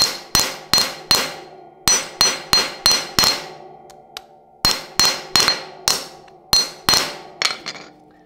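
A hammer strikes a pinewood derby axle held in a metal bender, sharp ringing metallic smacks in quick bursts of four or five, close and loud, with short pauses between groups.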